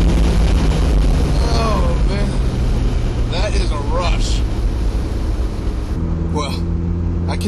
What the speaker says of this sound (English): Drop down to second gear. Punch it up.